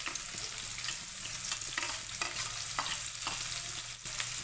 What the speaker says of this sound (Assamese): তেলখিনি গৰম হৈ গ'ল আৰু ইয়াতে এতিয়া দি দিম মই পিঁয়াজখিনি।